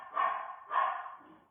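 A dog barks twice in quick succession outdoors behind a tall fence, close and clear, with a softer yip trailing off at the end.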